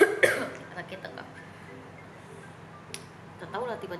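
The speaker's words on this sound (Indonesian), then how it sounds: "tiba-tiba semalam sakit tekak langsung jadi batuk" A woman who has a sore throat gives a sharp cough at the start, with a softer throat sound near the end, close to the mic in a quiet room with speech around it.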